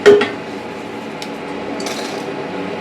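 Fried ivy gourd tipped from a pan into a dish, opening with a sharp metallic clatter of utensil against cookware, then a few lighter clinks over low, steady kitchen background.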